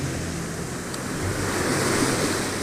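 A wave breaks against the rocky Ayrshire coast, a steady wash of surf with wind noise building into a fuller, louder splash toward the end.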